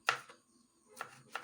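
Three sharp knife strikes on a cutting board as an inner flower is chopped finely, spaced unevenly with quiet gaps between, close and crisp.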